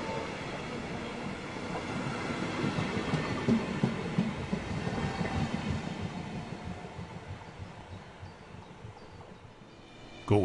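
A passenger relief train hauled by class 111 electric locomotive 111.065, with a early-1990s control car, rolls past between Würzburg and Treuchtlingen, a steady rumble of wheels and rail clatter that fades toward the end.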